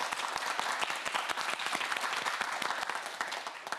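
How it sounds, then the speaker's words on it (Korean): A studio audience on a televised student quiz show bursts into brisk, dense applause, many hands clapping quickly and evenly at close range for several seconds, without voices on top. "큰 박수 보내주세요"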